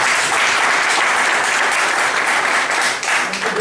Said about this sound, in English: Let's give him an applause, please.